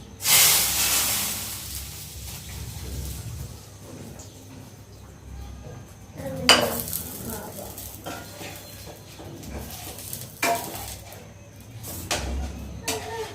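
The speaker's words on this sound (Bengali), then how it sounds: "ফোড়নটা ভাজা হয়ে গেছে, এখন ফোড়নটা দিয়ে দিচ্ছি" Hot tempering of fried cumin, bay leaf and dried chili goes into a pot of mutton curry with a sharp, loud sizzling hiss that fades into softer crackling, followed by scattered clatters and a few later bursts of sizzle.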